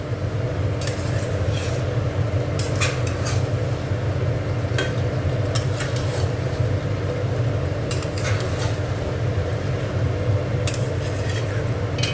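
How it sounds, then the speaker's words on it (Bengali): New potatoes sautéed dry in a pan for alurdom, a steady sizzle and frying hiss running throughout with occasional spatula scrapes and clinks against the metal, close and continuous. "আর জল দেবো না, এবার শুধু কষবো।"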